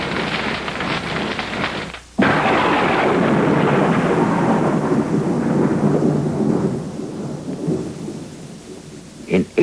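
A thunderstorm over the rugged terrain near Colorado Springs at the edge of the Rockies: a loud, sustained roll of thunder with heavy rain, a brief lull near the start, then rumbling that tapers off, with no speech.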